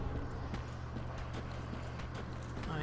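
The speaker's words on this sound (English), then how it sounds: "I hear footsteps." Footsteps in the video game Dark Souls 3, a faint series of soft, evenly spaced steps over a low ambient drone, with no voices.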